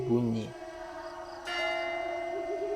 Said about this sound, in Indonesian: Ketika lonceng dan paduan suara mulai berhenti